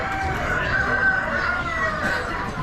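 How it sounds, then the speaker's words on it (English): Small black chickens at an Amish spring animal auction cluck and crow among other penned fowl, a dense, continuous barnyard chatter heard close and fairly loud. "Little black chickens."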